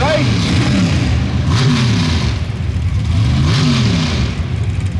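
Outlaw Pro Stock drag cars, among them a black Chevy, sit at a Steelville drag strip, engines rumbling loudly and swelling twice in rising, wavering revs.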